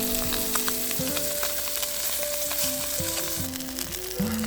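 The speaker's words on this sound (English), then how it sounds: "Cook for about 4 to 5 minutes on the skin side until it's crispy and golden" Salmon fillets frying skin side down in a hot pan until crispy and golden, giving a continuous bright sizzle with light stirring noises, with background music running underneath.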